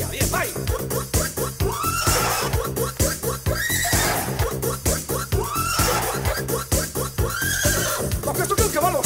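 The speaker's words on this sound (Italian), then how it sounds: "tocca adesso il cavallo, the horse" Horses whinny repeatedly over a driving, loud music track with steady beats, the neighs rising and falling several times across the stretch, with clip-clop hooves mixed in.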